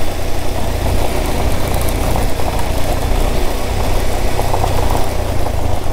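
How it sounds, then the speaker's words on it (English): A car engine runs loud and steady while driving along a bumpy, dusty canyon road, a constant low rumble with rattling vibration and no voices. "This car doesn't sound so cool."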